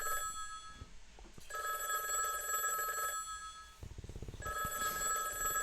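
A telephone rings in the video game Higurashi, with bright trilling bell bursts repeating with short pauses between them, moderately loud and close with no talking.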